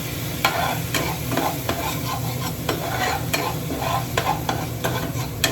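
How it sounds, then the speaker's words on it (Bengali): Spice masala for a kachkola (green plantain) bhuna being stirred in a pan over a low flame after a splash of water, a steady sizzle broken by regular sharp scrapes of the spoon against the pan, close and continuous. "মশলা কষানো হয়ে গেছে"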